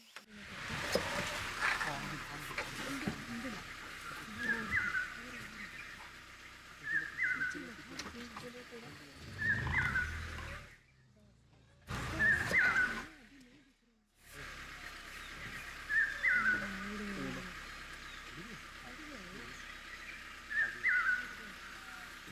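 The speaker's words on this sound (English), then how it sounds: "Of all birds, the most beautiful ones to hear is the common hawk cuckoo." A common hawk cuckoo calls repeatedly in a rainy-season forest at Tadoba, its clear whistled phrases recurring every two to three seconds over a steady hum of insects and rain, with a brief gap of near silence midway.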